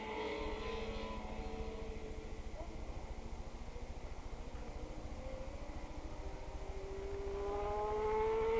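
Racing motorcycles at a 1986 Willow Springs road race drone past in the distance, their engine notes rising and sweeping as they pass, with a voice talking over them.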